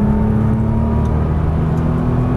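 A Nissan GT-R's engine pulls hard on throttle, a loud, steady, close-up drone with a whirring undertone that holds throughout.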